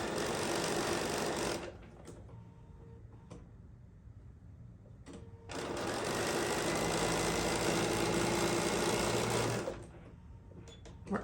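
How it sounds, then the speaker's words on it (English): A Bernina sewing machine with a quarter-inch presser foot stitching a seam: two long steady whirring runs, close and fairly loud, separated by a quiet pause with small clicks. "There's a couple different 1/4 inch feet for the Bernina. I've tried a couple different of them. The number 97 is my favorite foot on this. So I'm gonna sew this down."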